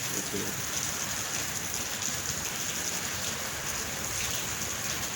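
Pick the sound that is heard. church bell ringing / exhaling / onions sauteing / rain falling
rain falling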